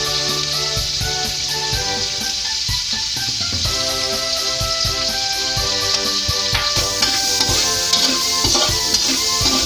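Onions sizzle and fry in a pan with ginger, salt and pepper for chicken tinola, a dense crackling hiss broken by regular knocks and scrapes of stirring, close up with no one talking.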